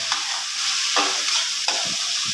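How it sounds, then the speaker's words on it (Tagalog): Squid sautéing in a hot pan for adobo, a steady broadband sizzle with a few stirring scrapes, loud and close with no talk. "Ilagay natin ating pusit"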